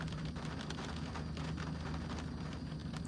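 Steady rain falls during Hurricane Ian in Fort Myers, a continuous dense hiss with a low rumbling undertone and no voices.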